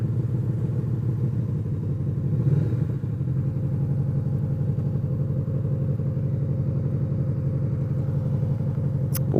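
A motorcycle idles with a low, steady engine rumble as it pulls into a parking spot outside a store, its tone briefly shifting once before settling, with no talking.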